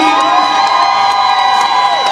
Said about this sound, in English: They have a big cheering section.